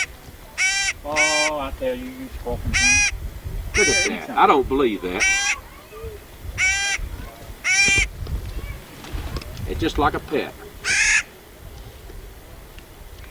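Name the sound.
squawking bird, likely crow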